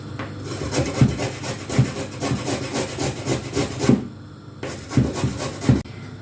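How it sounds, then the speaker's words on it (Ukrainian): A carrot rubbed against a hand grater in a home kitchen, rough rasping strokes in a quick even rhythm, close and fairly loud, with a short pause midway before the scraping resumes. "Я беру цей кусочок і зараз буду терти на ось такі тьорочки."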